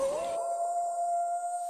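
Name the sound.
wolf howl sound effect introducing a segment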